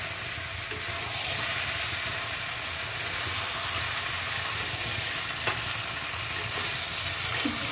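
Prawn and jackfruit curry is stirred in a hot pan, giving a continuous close sizzle and hiss with soft scraping of the spoon and a few light knocks, with no talking.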